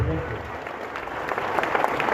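Audience applause welcoming a young motivational speaker to the stage, dense clapping that swells toward the end, with some voices mixed in.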